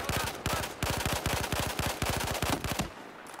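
Rapid bursts of AEK 971 assault rifle fire in the video game Battlefield 4, loud and close, in several sustained automatic strings with brief gaps, ending abruptly into quiet.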